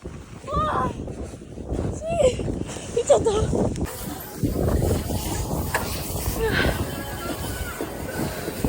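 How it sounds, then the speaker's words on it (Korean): Strong, gusty wind at a ski resort, close to snowstorm conditions, buffets and rumbles against the microphone in uneven surges while people talk over it. "바람이 엄청 불어요 거의 눈보라가"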